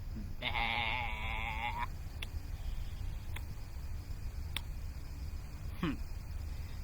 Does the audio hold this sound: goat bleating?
yes